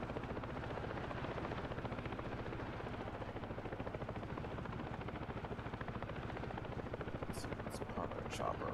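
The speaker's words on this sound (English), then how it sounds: "Let's park our chopper right over here." A helicopter in the video game Ghost Recon Breakpoint gives a loud, steady rotor chop and engine drone that fills the whole stretch, with a few faint higher clicks near the end.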